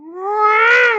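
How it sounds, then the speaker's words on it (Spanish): A cat cries at midnight in one rising, drawn-out wail lasting about a second, loud and close with no other sounds. "los gatos llorando a medianoche"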